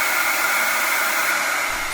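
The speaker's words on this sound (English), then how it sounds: "Blow dry up for volume, obviously." Hair dryer blowing hair at a barbershop, a steady close whooshing hiss of constant loudness throughout, with no talking.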